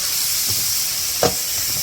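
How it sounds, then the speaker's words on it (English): Steady hiss of steak searing in olive oil on a griddle heated to 400 degrees, a continuous even sizzle with faint clicks and a brief bump partway through, no talking. "I'm going to start placing our steak on"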